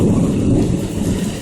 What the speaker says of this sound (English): That thunder sounds so vicious.